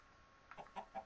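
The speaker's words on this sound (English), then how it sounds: "I hear chicken" Video game chickens give several short clucks in a quick run, faint against a steady background hum, with no talk.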